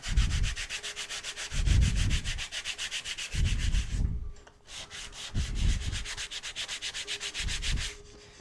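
Hand scuffing of a surface with a sanding blotter while building a droid model: repeated rhythmic rubbing strokes in steady back-and-forth bursts, close and fairly loud, with no voices.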